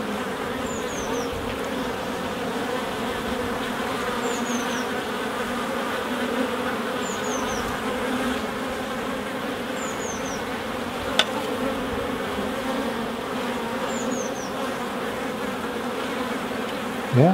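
A dense, steady hum of many honey bees buzzing up close during queen rearing at a hive, with faint chirps from a bird repeating in the background.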